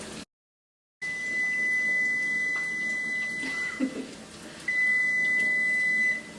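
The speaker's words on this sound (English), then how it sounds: "our timer just went off for our eggs" A kitchen timer for boiled eggs beeps in two long continuous electronic tones, the second louder, over faint kitchen background noise.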